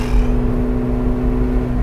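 A McLaren 750S Spider supercar driving, its engine a steady low drone with a constant mid-pitched whine, heard from inside the cabin with no talking.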